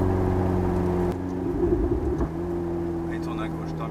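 A Ferrari 488 Spider's twin-turbo engine while driving, a steady low drone that shifts pitch midway and rumbles briefly before settling again, heard from inside the car.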